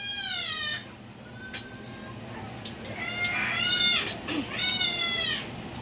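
A child cries in several drawn-out wailing bursts, close and fairly loud, over a low background hum, with an adult voice briefly heard.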